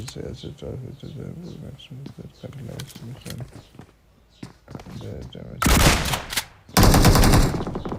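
Rapid bursts of video game gunfire crackle over ongoing esports commentary, ending in two long, loud sustained volleys of automatic fire.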